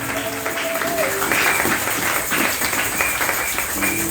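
A church congregation applauds and cheers for Jesus, with steady clapping and raised voices forming a continuous crowd wash, and a preacher's voice speaking at moments through it.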